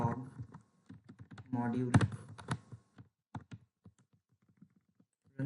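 Computer keyboard typing in short bursts of clicks while writing JavaScript code for Node.js, with someone speaking briefly at the start before the keystrokes continue on their own, sparse and close.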